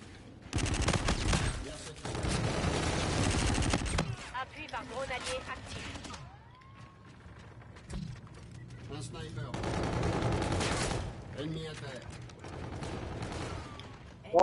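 Automatic gunfire in the PUBG video game, long rapid bursts of close shots in two main stretches separated by quieter gaps with mechanical clicks, with someone talking faintly in between.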